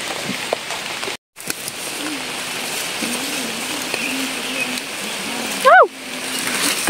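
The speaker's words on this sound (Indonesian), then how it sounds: "Hujan, teman-teman." Rain falls steadily in a fruit garden forest, a continuous close patter with a brief dropout and a short whistling chirp near the end.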